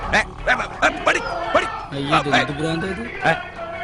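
A dog barks in a string of sharp, yippy bursts, close by, with a person's voice talking over and between the barks.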